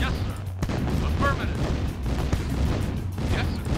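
Tank cannon fire from the 1995 real-time strategy game Command & Conquer: Tiberian Dawn, booming blasts and explosions from a battle with rocket infantry, under steady game noise and overlapping voices.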